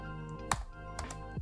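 A few sharp key taps on a computer keyboard while entering a terminal command on a Raspberry Pi, isolated clicks spaced apart over a steady low hum.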